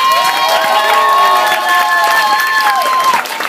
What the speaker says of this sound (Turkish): yine büyük bir alkış alayım